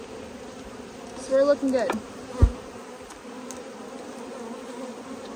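Honeybees hum steadily during an open hive inspection, a faint continuous buzz with brief louder passes near the keeper and a sharp tap, while a person speaks briefly.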